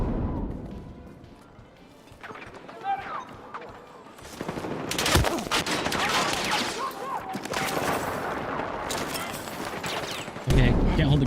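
Gunfire in the video game Gears of War, with dense bursts of automatic fire, heavy impacts and explosive crashes building into a loud sustained firefight, and a player speaking briefly under the action.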